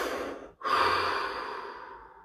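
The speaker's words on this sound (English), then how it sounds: "Take a deep breath." A single deep breath: a sharp inhale, a brief pause, then a long, steady exhale fading slowly, close and alone with no talking.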